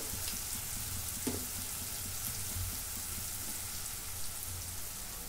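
Masala sautés in a pan for a Malvani-style chicken dish, giving a steady, soft sizzling hiss throughout with a faint tap of stirring, no voices.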